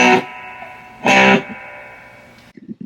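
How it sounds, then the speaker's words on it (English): Two distorted electric guitar chords through a Fender Sidekick 15 Reverb amp with hall reverb, each followed by a lingering reverberant tail that fades slowly, with a few quiet notes picked at the end. "little bit of a Hall effect there."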